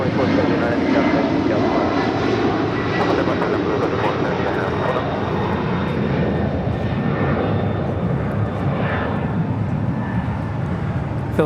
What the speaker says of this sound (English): Philippine Airlines up in the air, flight 113, taking off to Manila